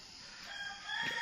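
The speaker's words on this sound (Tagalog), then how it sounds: "Tilaok pa ng manok." A rooster crows on a cold, quiet morning in rural Batangas province in the Philippines. The call is faint and distant and lasts only a moment.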